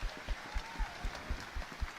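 Applause from a large football stadium crowd at a Falkirk versus Dundee United match, with a steady beat of low thumps about four times a second, a broad wash of noise throughout.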